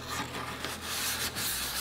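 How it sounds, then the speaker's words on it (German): Steady scratchy rubbing of 240-grit sandpaper worked by hand along the bumper edges of a Porsche Cayman 987, continuous and close, with no voices. "nehmen wir uns jetzt hier einfach 240 Schleifpapier und fahren jetzt hier nochmal so die Kanten entlang"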